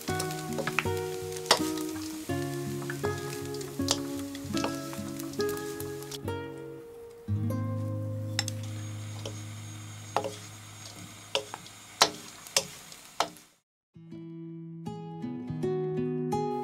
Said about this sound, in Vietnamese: cho một phần cơm chiên giòn và tôm vào, đảo đều lên.